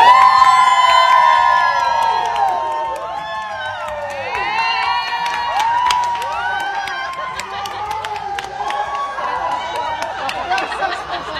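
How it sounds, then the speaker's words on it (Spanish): Crowd cheering and applauding, a loud dense mix of whoops, shouts and high-pitched screams with scattered clapping, sustained throughout and staying strong to the end. "las personas que se encontraban ahí le aplaudieron su forma tan peculiar y su acento español"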